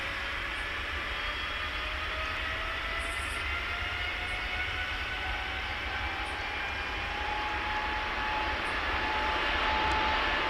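A China Eastern airliner's jet engines whine steadily on the runway in Tower Simulator 3, a continuous loud drone with slowly rising tones and no talk.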